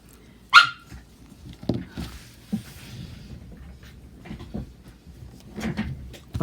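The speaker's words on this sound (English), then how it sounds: "And then my older dog gets fed up with the puppy and bites him." An older dog and a puppy playing indoors, with a sharp close bark near the start followed by scuffling, thumps and faint yips as they wrestle around.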